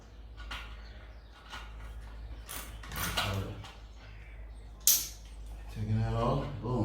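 A wrench breaking loose a 9/16 clamp bolt that holds a motorcycle muffler onto the header, heard as a few faint, close creaks and mechanical clicks with short gaps between.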